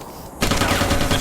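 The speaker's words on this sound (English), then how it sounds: "gunfire all around." Rapid automatic gunfire in the sci-fi shooter game Interstellar Marine during a clan battle, a dense continuous burst of shots starting abruptly after a brief quiet moment.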